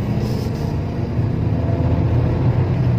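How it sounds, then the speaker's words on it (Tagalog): Geely Coolray car with four working exhaust tips, driving along with a steady low rumble of engine and exhaust throughout, close and continuous, no talking. "kung gaano kaganda nung tunog ng pipe or yung tunog ng tambutso"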